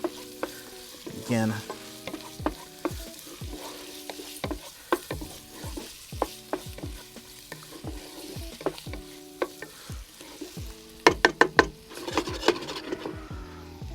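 Peppers and onions sizzle in a pan for Southern red beans and rice, with frequent clacking stirs and scrapes of a utensil against the pan. A quick burst of sharper clicks comes near the end, and no one talks.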